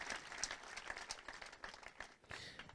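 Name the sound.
church congregation applauding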